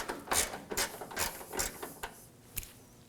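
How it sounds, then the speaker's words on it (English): A ratchet loosens a 10mm bolt while the AC condenser cooling fan assembly is removed from a 2014-2020 Acura MDX. It gives short, close bursts of rapid clicking, about seven, with brief pauses between them. "We're going to remove that 10mm bolt using the same tool."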